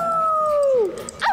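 A dog gives a single drawn-out howl, a clear tone that slides slowly downward and fades, followed by a brief higher yelp at the end, close and alone.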